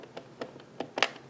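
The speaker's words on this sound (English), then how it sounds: "When you hear that little popping noise, that means it's dropped down all the way." Small popping clicks from an addi knitting machine as the yarn drops all the way down, several faint, short taps spaced unevenly, the last one slightly sharper and brighter, with no talking.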